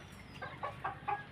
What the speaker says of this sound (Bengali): 3টি মুরগি, 1টি মোরগ